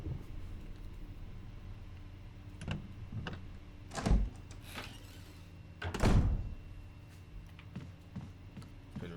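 A door in the Resident Evil game, Jill's story, creaks and thumps open, with a few sharp clunks building to two louder bursts near the middle and later.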